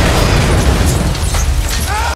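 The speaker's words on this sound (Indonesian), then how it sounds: "Sampai akhirnya mobil di dekat mereka pun meledak." A car blowing up beside people during a tank attack in an action film: a loud, dense roaring blast that fills the whole clip with rumbling debris and fire noise before cutting off abruptly.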